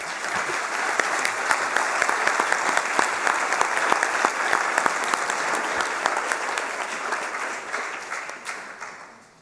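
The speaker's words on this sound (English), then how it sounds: "let's give them a round of applause" An audience at a school board of education meeting applauds parents standing up, with dense sustained clapping throughout that tapers off at the very end.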